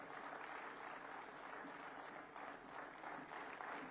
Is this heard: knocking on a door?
no